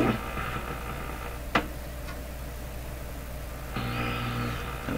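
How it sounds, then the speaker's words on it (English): A General Electric KL-70 AM/SW radio oscillating on a weak 19 metre band, giving a steady hiss with faint whistling tones, a sharp click near the middle, and a louder warbling tone rising toward the end. "So it sounds like it's oscillating up here."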